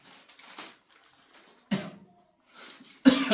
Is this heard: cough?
yes